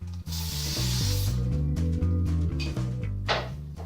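Hairspray hisses from a can onto back-combed vintage beehive hair in a close, steady burst, followed by a few shorter sprays, with soft rustling over a low musical background.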